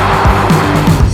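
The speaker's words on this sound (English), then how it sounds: "I was honestly blown away with how good this engine pulls" A Porsche Cayenne Turbo S, a two-ton SUV, pulls hard under acceleration, its engine giving a loud, steady roar close by, with tones that rise and fall repeatedly.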